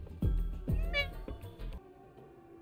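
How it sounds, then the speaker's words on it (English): A cat in a video game gives two or three close, drawn-out meows in quick succession, fading into a quiet tail. "Guys, I'm just a meowing cat."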